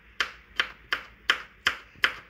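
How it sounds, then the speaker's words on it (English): A knife chops okra on a cutting board for a Nigerian-Cameroonian okra soup. Six crisp, evenly spaced chops land about every third of a second, close and clear, with no talking. "I'll start chopping my okra."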